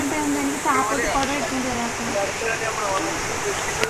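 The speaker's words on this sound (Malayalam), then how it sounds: "എന്തു മഴയടി ഇത്" Heavy rain pours down in a dense, continuous roar, loud and close, while a person speaks over it.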